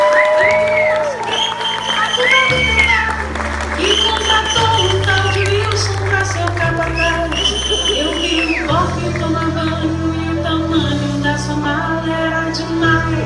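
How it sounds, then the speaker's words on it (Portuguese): Theatre audience at a stand-up comedy show in São Paulo breaks into sustained applause and cheering, loud and continuous throughout, while a musical backing plays underneath. "Uma salva de palmas para Priscila Drag!"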